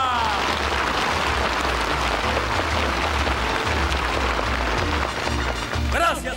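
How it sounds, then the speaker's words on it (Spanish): Dense clapping from a theater audience fills the whole stretch, loud and steady, with a few whistles rising near the end. "Gracias por esos aplausos"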